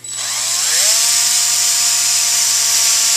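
A power tool smooths a burr inside a hydraulic part from a Walker 784 mower, spinning up quickly to a steady high-pitched whirring grind that holds loud and close.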